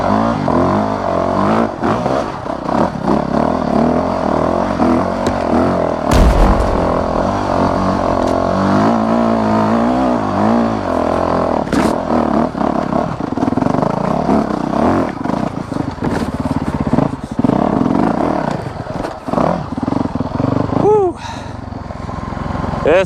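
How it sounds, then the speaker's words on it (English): A two-stroke dirt bike engine revs repeatedly on a trail ride, loud and close, with rising and falling throttle bursts, brief drops in engine sound and clattering. "Now I'm back on a two-stroke."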